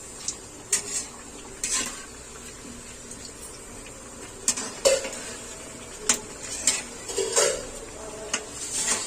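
Chana dal puris fry in hot oil in a pan and are turned over with a utensil, bringing sharp metallic clinks and scrapes against the pan over a soft, steady sizzle.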